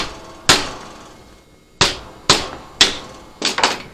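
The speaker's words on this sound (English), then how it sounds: "and I take a rawhide hammer," A rawhide hammer strikes metal stock being bent into a 90-degree angle for a Dutch steamboat lantern, with five sharp, close blows at uneven intervals, the last two in quick succession.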